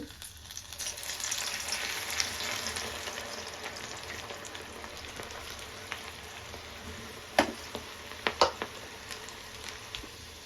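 Okra coated in gram flour hits hot oil with a steady, dense crackling sizzle throughout, joined near the end by a few sharper clicks of utensils against the pan; no voices.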